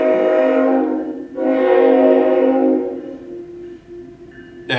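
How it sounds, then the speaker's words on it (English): A train passes nearby, loud and sustained, with a steady horn-like tone holding through most of the pass before fading slightly; no talking. "so we have trains by us."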